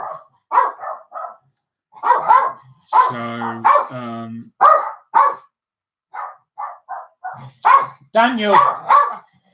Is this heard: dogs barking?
yes